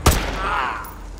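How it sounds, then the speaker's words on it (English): A single sharp gunshot from a rifle in Call of Duty: Modern Warfare 2, fired during a takedown mission, cracks loudly at the start and then trails off into a ringing, fading tail. "Roach, take the shot. Go for his leg."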